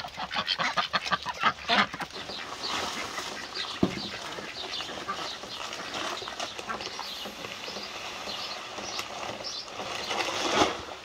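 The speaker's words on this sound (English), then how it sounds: "She's the last of my Muscovies." Muscovy ducks feeding on soaked wheat, with steady close-up quacking and gabbling, busy and continuous throughout, a sharp knock partway through.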